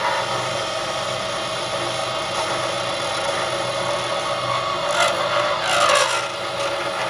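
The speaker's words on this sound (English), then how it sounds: "So we're going to use our skew chisel just as a scraper." A skew chisel held as a scraper against an acrylic pen blank turning on a lathe gives a steady, close rasping hum, with a few brighter scraping bursts near the end.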